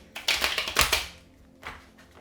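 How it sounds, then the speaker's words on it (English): Quick rattling bursts of tarot cards being shuffled close by, one longer riffle followed by a shorter one after a short pause. "Let me shuffle first."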